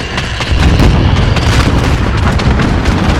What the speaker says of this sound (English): I will throw a bomb around there